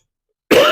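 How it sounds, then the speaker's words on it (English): A single abrupt, loud cough bursts out at the end after silence, a harsh close-up throat sound during a watercolor card-making voiceover. "every time I start to do a voiceover, I start coughing"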